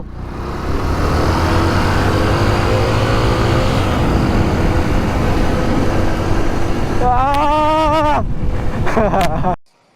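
An old motorbike pulls away in second gear on a rough, waterlogged road, a steady loud engine drone mixed with wind buffeting the microphone. A voice rises briefly near the end before the sound cuts off.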